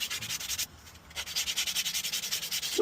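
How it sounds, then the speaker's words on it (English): A hand-carved wooden spoon sanded outdoors in steady back-and-forth strokes, a close, rhythmic scratchy rasp repeating about four times a second with one short pause. "Now, it's the sanding."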